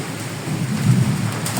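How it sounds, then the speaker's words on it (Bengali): Rain falls steadily with a low rumble swelling underneath, continuous and fairly loud, with no one speaking. "এখন এই মুহূর্তে বৃষ্টিটা ওইভাবে নাই, কিন্তু টিপ টিপ টিপ টিপ করে পড়তেছে"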